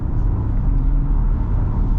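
2026 Ford Ranger XLT V6 pickup accelerating, a deep, steady low rumble of the engine heard from inside the cab for a couple of seconds.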